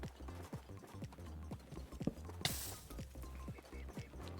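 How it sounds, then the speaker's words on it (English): A horse's hooves clip-clop in Minecraft, a steady, fairly quick series of hollow knocks close by, with a brief burst of noise midway. "There's a horse there."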